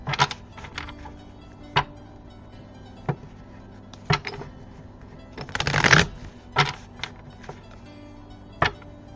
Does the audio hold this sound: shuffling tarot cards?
yes